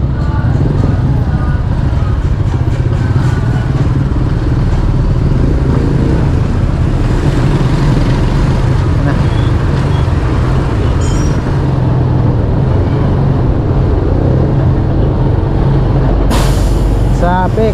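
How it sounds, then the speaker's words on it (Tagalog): Highway traffic with motorcycles and trucks rolling past on the road toward Albay: a loud, continuous engine roar and tire rumble with a sharp hiss near the end, voices now and then. "Traffic."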